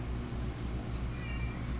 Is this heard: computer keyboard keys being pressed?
no